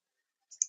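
Two quick mouse clicks in a quiet room while working in Midas Civil bridge-modeling software, small, sharp and close, the second a touch louder, with silence around them.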